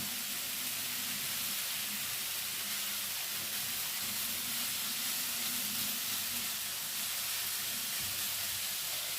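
Apples sizzle in butter in a pan, a loud, continuous hissing fry that holds steady from start to finish.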